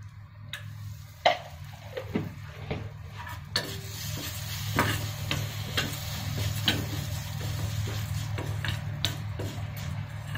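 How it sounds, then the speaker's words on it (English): Tamarind and salt frying with urad dal in a pan, a steady sizzle under stirring taps and scrapes of a spoon, close and alone, growing fuller toward the end. "Fry the tamarind"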